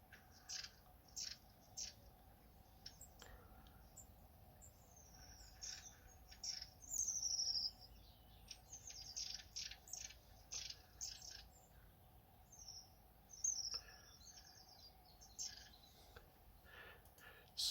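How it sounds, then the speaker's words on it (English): Long-tailed tit calls played back through a bird identification app: repeated high, thin chirps and trilling notes in irregular bursts over a faint steady background hum. "Let's try the long-tailed tit."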